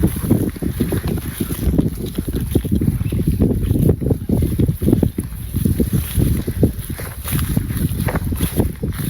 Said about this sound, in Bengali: ঠান্ডা বাতাস